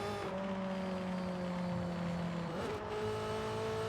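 A Honda S2000 with simple bolt-on modifications cruises in fifth gear at well over 100 mph, its steady engine drone and road and wind roar continuous throughout, with a brief shift in pitch near the end.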